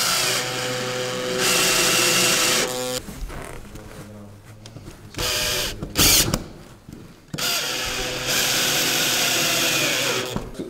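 A power screwdriver whirs in sustained bursts, driving screws into corrugated asbestos-free Eternit roof sheets, with pauses and clunks between runs, close and loud.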